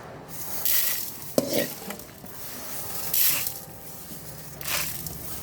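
Fenugreek seeds and chillies sizzle and crackle in a pan for amla pickle, soft frying noise with a few stirring scrapes and short bursts of spatter, fairly quiet, with no talk.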